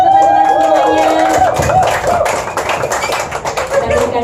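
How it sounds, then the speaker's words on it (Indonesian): A room of people claps together, a dense patter of hands with chatter and faint cheers mixed in, fairly close and loud. "kita berikan tepuk tangan teman-teman semuanya"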